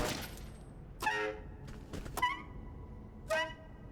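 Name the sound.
broken saxophone sound of empty Smooth Tube gun, Mafia 2 video game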